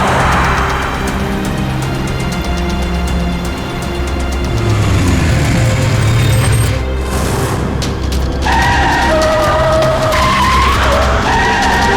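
A car skids loudly on the road, a long squealing screech of tires over a roaring engine in a tense crime-drama scene, ending in sharp harsh tonal squeals.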